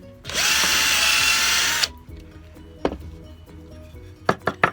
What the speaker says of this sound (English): Yeah, that drills nicely in there.